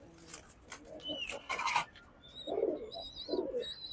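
Silver pigeons coo in a home loft, a few soft low coos arriving in short bursts, with faint chirps and small rustles around them.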